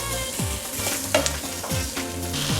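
Vegetable lasagne sauce is stirred in a pan: a steady sizzle runs throughout, broken by repeated scraping sweeps of the spoon and a sharp clink partway through, with no talking.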